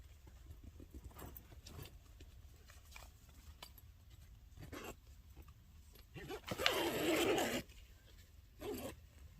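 A tent door zipper is pulled open in one quick rasping run, preceded by soft rustling and handling noises of fabric.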